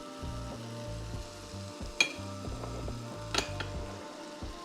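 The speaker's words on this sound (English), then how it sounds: "We're gonna add a little knob of butter in there." Butter sizzles and fries in a hot pan alongside a steak, a continuous close crackle broken by a few light clinks of a utensil against the pan.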